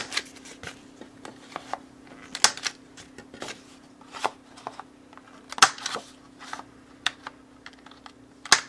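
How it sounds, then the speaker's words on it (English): A corner rounder punch clipping the corners of a paper card, a rapid series of sharp clicks and snaps at an uneven pace, close and fairly quiet, with no talking. "I'm going to round these corners really quick"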